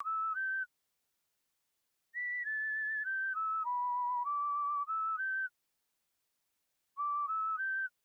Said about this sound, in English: obviously it's a lot of whistling